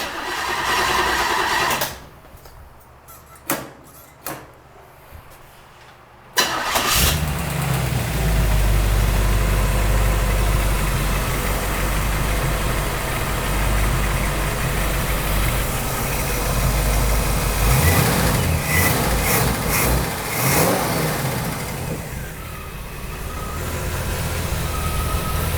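1946 Ford convertible engine on a cold day, a few clicks and cranking before it fires up loud and close, then settles into a steady rough idle with occasional revs.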